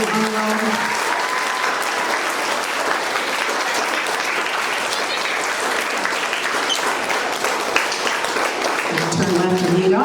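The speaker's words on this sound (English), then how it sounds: "Give them a big round of applause for Aiden on roll." Sustained audience applause fills a school quarterly awards ceremony, steady and dense for the whole stretch, with a few voices briefly audible at the start and end.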